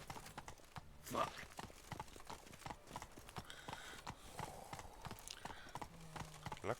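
Horses in the video game The Witcher 3 walk with steady, quiet clip-clopping hoofbeats, a soft whinny breaking in once against a low background.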